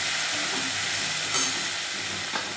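Cluster beans (gavar) with turmeric sauté in a hot pan, giving a loud, continuous close sizzle with a couple of brief stirring scrapes.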